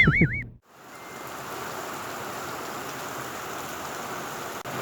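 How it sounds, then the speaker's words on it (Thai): Steady rain falling outdoors in Khao Yai, Nakhon Nayok, a constant even hiss that begins after a brief burst of other sound and continues unbroken at moderate volume. "แต่ก็ต้องมาเจอน้องฝนอีกเหมือนเดิม"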